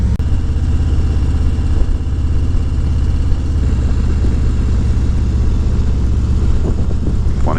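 Motorcycles cruising along Atlantic Avenue during Daytona Bike Week, a steady loud engine drone with idling and revving close by, one bike throttling up near the end.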